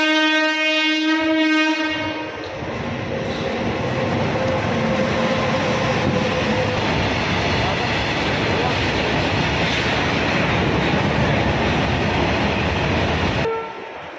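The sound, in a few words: train stopping at Durgapur station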